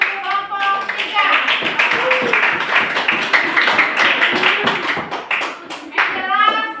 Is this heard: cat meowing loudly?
no